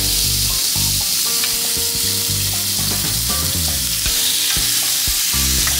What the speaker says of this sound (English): so now we're gonna sear the salmon